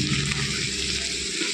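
Boiled, drained beetroot frying in a pan with tempered spices and browned onions, giving a steady close hiss and crackle of sizzling with no talking.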